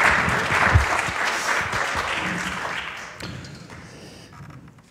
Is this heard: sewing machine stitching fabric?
no